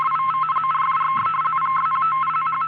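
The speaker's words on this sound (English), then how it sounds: "This is the sound of RTTY in action." A shortwave radioteletype (RTTY) signal keeps up a steady, rapid warbling buzz of alternating tones, constant and fairly loud, with a faint low hum beneath.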